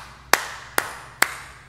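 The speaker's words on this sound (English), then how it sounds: "That is why we clap and make music." Three sharp hand claps spaced evenly about half a second apart, crisp and close, each ringing briefly in a worship setting with no voices.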